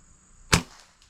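One air pistol shot is fired with a Huggett Magna moderator and a lead-free pellet, a single short, muffled crack with a quick decay, close up and alone.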